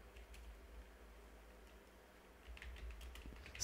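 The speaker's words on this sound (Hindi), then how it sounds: "नरेशन टाइप करेंगे हम" A computer keyboard is tapped in a few soft, scattered keystrokes while entering accounting data, faint and close over a low hum with no talk.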